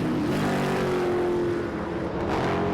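F5000 single-seater race cars at Ruapuna circuit, a loud continuous engine roar with a steady high whine that holds then shifts as the cars pass close by under braking toward the hairpin, no talk.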